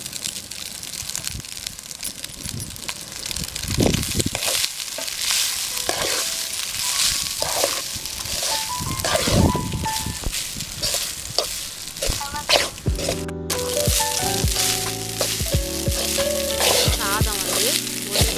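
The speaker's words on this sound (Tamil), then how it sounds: "இப்போ ரைஸ் போட்டு கலரி விட்டுக்கலாம்" Cooked rice stir-fried with ground mint in a pan at an outdoor village cooking setup, loud steady sizzling with scraping and stirring throughout, with a brief pause near the end.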